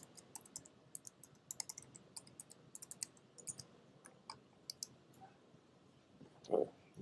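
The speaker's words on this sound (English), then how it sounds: "Just type your password again." Password keystrokes on a computer keyboard: a quick, irregular run of light clicks close by, then a louder thump near the end, with no talking.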